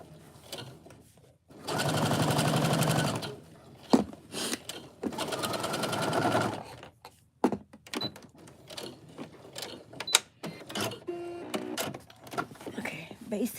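Sewing machine basting fabric inside the seam allowance during craft fair sewing, running in two steady close bursts of a few seconds each. Brief clicks and handling noises follow, and a person talks between the bursts.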